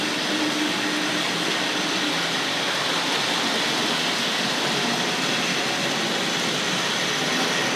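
A Tri-ang Hornby Railway Children model train runs at a model railway exhibition, a steady, dense whirring rumble of motor and wheels on track that continues evenly and fairly loud throughout, with no talking.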